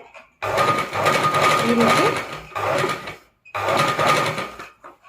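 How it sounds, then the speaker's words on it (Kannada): Sewing machine stitching beside thread piping on a square neckline: three loud, close bursts of fast rattling needle action, separated by brief pauses. "ಈ ರೀತಿ ಥ್ರೆಡ್ ಪಕ್ಕದಲ್ಲೇ ಹೊಲಿಗೆ ಹಾಕೊಳ್ಳಿ"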